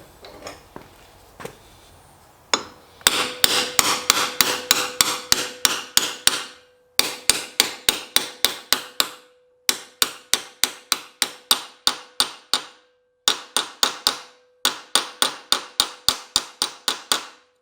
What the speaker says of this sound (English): I'm going to use a socket. It's the same size as the seal here, and just tap it in.